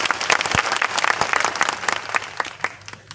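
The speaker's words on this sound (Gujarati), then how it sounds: "ત્યારે એકવાર જોરદાર તાળીઓ પાડીએ." Crowd applause at a Thakor community gathering in Banaskantha, a dense burst of clapping from many people that continues steadily, somewhat distant and echoing.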